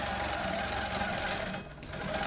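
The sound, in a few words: longarm quilting machine stitching with ProStitcher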